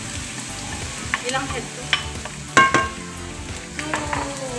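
Minced garlic sizzles in butter alongside shrimp in a pan, a steady crackle with occasional louder stirring scrapes and clinks, while a voice briefly speaks.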